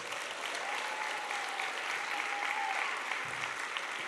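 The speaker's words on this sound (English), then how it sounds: "Give these guys and gals a giant round of applause" Steady, dense applause from a real estate training seminar crowd, sustained at even loudness throughout with a faint tonal whine running beneath.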